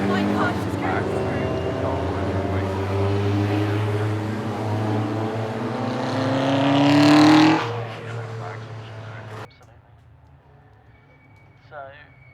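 Race cars at Castle Combe Circuit running through a corner during a hot hatch race day: engines build and swell to a loud pass, then drop away abruptly into quiet, with speech present over the engine noise.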